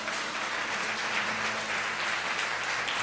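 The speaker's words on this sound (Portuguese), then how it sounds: "Você pode aplaudir ao Senhor?" A church congregation applauds steadily and densely throughout, a broad sustained wash of clapping from many hands with no talk over it.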